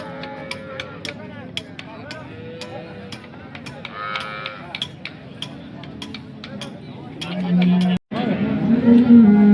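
A cow at a village cattle market in Sangola gives repeated loud lowing moos over a busy background of people talking and scattered sharp ticking clicks.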